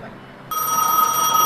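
A telephone rings at a booth in front of the gas station in the video game Gas Station Simulator, starting abruptly after a short lull and ringing steadily with a bright electronic tone.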